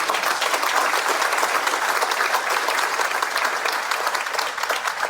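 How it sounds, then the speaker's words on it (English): A crowd at a city State of the City address applauds the police department, with dense, sustained clapping that stays loud and uniform throughout. "Give the police department a round of applause."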